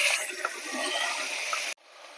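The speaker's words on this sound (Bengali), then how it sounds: "আমি এবার মিক্সিং জারটা জল দিয়ে ধুয়ে ভালো করে দিয়ে দিচ্ছি।" Water splashes and swirls while a kitchen mixer grinder jar is rinsed, a steady close rush of liquid that cuts off abruptly, leaving a faint trickle.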